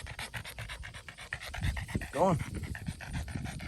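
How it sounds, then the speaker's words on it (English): A dog pants heavily in 100-degree heat on a farm, fast rhythmic breaths close by, with a brief whine midway and a person speaking briefly over it. "you're breathing way too heavy"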